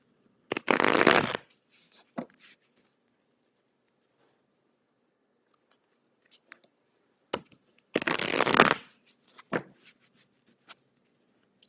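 Tarot cards are shuffled in two brisk riffling bursts of about a second each, several seconds apart, close and crisp, with a few light card taps between and near silence otherwise.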